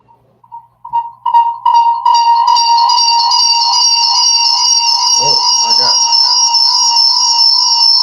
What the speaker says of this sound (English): That's that black people alarm.